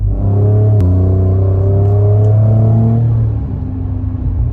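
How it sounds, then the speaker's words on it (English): A loud, deep Ford Raptor twin-turbo V6 pickup engine idles and revs with open exhaust, a rough, throaty rumble, then settles back down, close by. "Exhaust is open. Okay, straight away, completely different exhaust tone."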